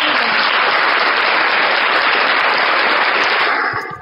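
An audience applauds in loud, dense, continuous clapping at a gathering, sustained for several seconds before tapering off at the end.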